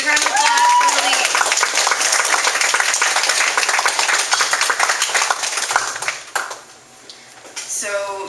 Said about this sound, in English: So big round of applause for Helene.